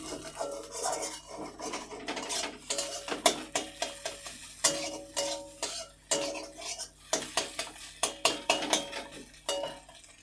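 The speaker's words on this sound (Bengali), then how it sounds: "এভাবে গুঁড়ো করে নেব ভেজে, আর লবণটা যাতে মিশে যায় সবার সঙ্গে।" Crumbled stale roti frying with salt in a pan, stirred with a metal utensil that scrapes and clatters in a busy, irregular rhythm throughout.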